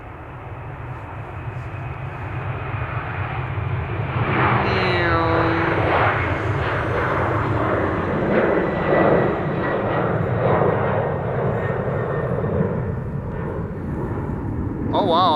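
A Boeing 767 jet takes off at Amsterdam Schiphol Airport and retracts its landing gear, its engine roar loud and sustained throughout, with a rising tonal whine sweeping through mid-clip while people talk nearby.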